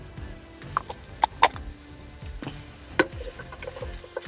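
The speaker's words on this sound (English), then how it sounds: "we will add 2 carrots chopped up" Chopped carrots sizzle in a pot with bacon and aromatics, a soft continuous fry broken by scattered scraping clicks of stirring, fairly quiet with no speech.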